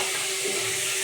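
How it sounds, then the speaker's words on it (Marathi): Onion and garlic frying in a pan for a homemade chicken dish, a steady close sizzle and hiss with faint stirring, no voices. "आता आपण भाजून घेऊया कांद्याने लसूण"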